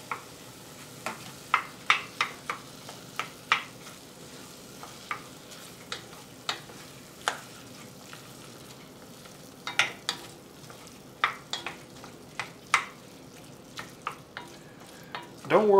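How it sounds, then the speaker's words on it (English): Diced Roma tomatoes cook with Hatch chilies for a barbecue sauce, a low simmering sizzle broken by frequent sharp clicks and scrapes of a stirring utensil. "We're going to add in a cup of diced Roma tomatoes."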